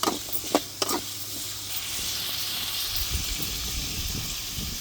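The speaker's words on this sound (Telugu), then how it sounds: "పచ్చివాసన పోయేంత వేయించుకోవాలి" Spices frying in a pan, cooked until the raw smell is gone, for a country chicken broth: a steady broadband sizzle with a few sharp stirring clatters early on.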